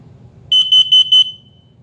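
A Kidde P3010CU combination smoke and carbon monoxide alarm sounds during a test, four loud, piercing double beeps in quick succession, each short burst sharply repeating before fading into a quiet room.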